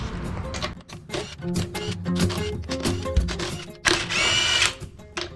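A power tool with a 7/8 socket spins off lug nuts on a truck wheel in bursts of loud whirring and rattling, stopping and starting, with a longer high-pitched run near the end.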